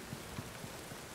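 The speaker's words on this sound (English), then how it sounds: "Is it raining again?" Steady rain falls in the open world of The Witcher 3, a soft continuous hiss of drops with faint low patters pulsing about every quarter second, quiet and even throughout with no voices.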